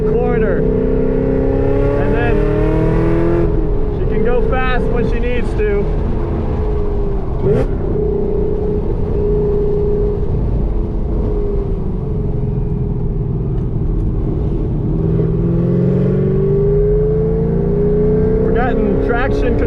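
A 1,000 hp Hennessey Exorcist drives hard around a race track, its engine a loud continuous roar rising and falling through gear changes and corners, with people talking over it throughout.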